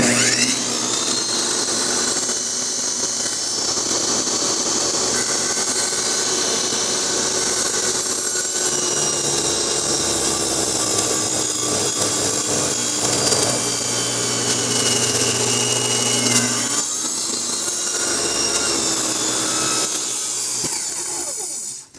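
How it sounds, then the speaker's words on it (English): A power saw cuts through a wood deck board, a loud sustained whine and grinding lasting about twenty seconds up close, with slight shifts in pitch as the blade works and briefly binds. "And now I'm going to cut through the other half."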